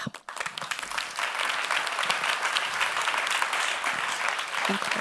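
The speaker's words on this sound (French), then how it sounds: "Merci d'applaudir bien fort le professeur Pierre-Marie Glauser." Audience applause at a regional economic forum in Vaud, a dense sustained clapping from a large crowd, loud and steady throughout with no talk over it.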